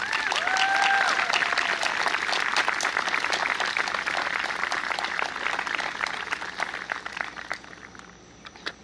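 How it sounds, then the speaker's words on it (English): A crowd breaks into steady, enthusiastic applause at an outdoor high school graduation ceremony, carrying on for several seconds before tapering off, with scattered individual claps near the end. "Let's have a big round of applause for Teacher of the Year, Mr. Jim McKinley."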